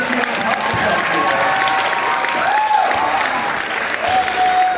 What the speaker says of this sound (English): Please, a nice round of applause for our volunteer couple.